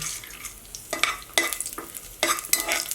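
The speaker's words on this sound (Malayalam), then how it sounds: "നെയ്യ് ചൂടായിട്ടുണ്ട് അതിലേക്ക് ഞാൻ ഒരു ടേബിൾ സ്പൂൺ കാഷ്നട്ട് ചേർക്കുന്നുണ്ട്" Cashews and melon seeds fry in hot ghee, a close bright sizzle broken by several stirring scrapes of a spoon through the pan.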